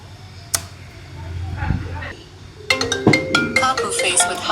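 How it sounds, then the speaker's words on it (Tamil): A mobile phone ringtone starts partway through and keeps playing as a bright, repeating electronic melody, loud and close, after some earlier indistinct sounds. "உனக்கு ஃபோன் வருது."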